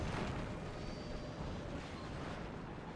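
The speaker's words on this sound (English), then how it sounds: "Our artillery is coming in on this infantry unit here." Artillery fire in the war strategy game WARNO rumbles as a dense, continuous roar of blended explosions, loud and heavy in the low end with no distinct individual blasts.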